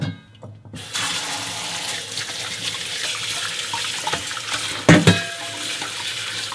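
Semi-dried pollock is rinsed under a running kitchen tap, with a continuous rush of water into the sink and a louder splash partway through as the fish is moved under the stream.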